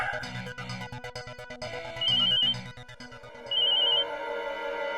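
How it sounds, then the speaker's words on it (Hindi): A mobile phone rings after dialling a kidnapper's number, a repeating ringback tone sounding in two clear bursts over background music and a steady rhythmic beat, with no voices present. "घंटी बज रही है"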